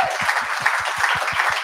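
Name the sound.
round of applause for the speaker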